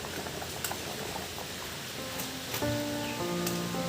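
A pot of potato and egg curry bubbles at a steady simmer, soft popping and burbling close by with no voices, thin tonal hums rising in the last second.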